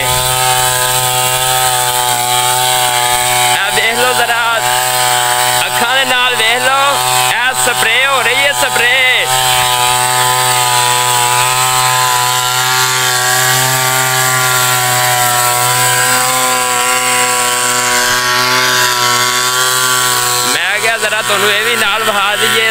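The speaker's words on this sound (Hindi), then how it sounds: "जरा स्प्रे हो रही है, स्प्रे हो रही है" Motorized sprayer running steadily in a village field in Punjab, Pakistan, a loud continuous engine drone with shifting pitch throughout, no talk over it.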